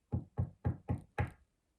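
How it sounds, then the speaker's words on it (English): Five evenly spaced, soft knocks on a tiny door, close and clear with short gaps between them and silence afterward. "She bent down and knocked quietly."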